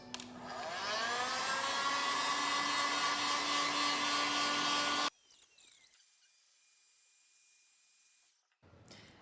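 A hot air blower on a high setting, aimed at a shoe's sole and base, gives a loud, steady whirring hiss with a whine rising as it spins up. It cuts off after about five seconds and quiet handling noises follow.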